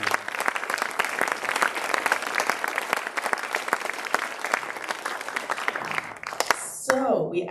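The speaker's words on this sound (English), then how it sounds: "let's give a round of applause for Dr." Audience applauding a guest speaker, Dr. Joel Zinn, after a Skylark Speaker Series astronomy talk: dense, steady applause that runs for several seconds, then thins out near the end as a voice begins speaking.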